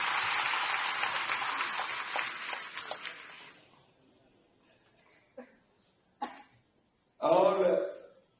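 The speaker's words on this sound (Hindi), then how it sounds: "ताली बजाइए ना सभी से" Audience applause at a public government event, a few seconds of clapping that fades away, followed by a couple of isolated thuds and a short burst of voice.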